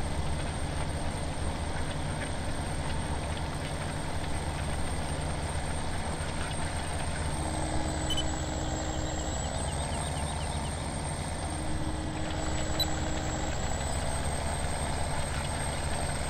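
A tractor engine runs continuously in Farming Simulator 17 while working a wheat field, a steady rumbling drone with a faint high whine and brief tonal shifts, no speech.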